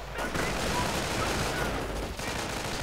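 Rapid gunfire from stormtroopers crackles almost without pause through a busy video game battle, dense and loud with overlapping bursts from start to finish.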